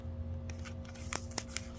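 A sharp knife blade, an Ontario Rat 1 in D2 steel or Spyderco Resilience, slices through Amazon plastic mailer bags in several quick crisp cuts, close and fairly loud over a low steady hum.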